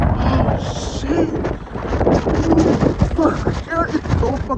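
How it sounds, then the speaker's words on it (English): Strong wind gusts buffet the microphone in a blizzard in Louisiana, a steady roaring rush with surging bursts throughout, loud and close, while a voice talks and exclaims over it. "it's so fucking windy"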